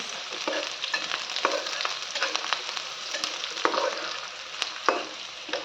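Onion frying in a pan to make a snack, a steady close sizzle with scattered crackles and a few sharp spatula clicks, no voices over it.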